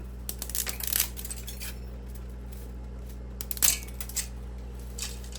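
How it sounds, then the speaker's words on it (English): Dry spaghetti snapped by hand and dropped into a cooking pot, a few sharp crisp cracks and clicks with a brief clatter near 3.7 seconds, close and fairly quiet over a steady low kitchen hum. "I'm going to break the top off of the spaghetti."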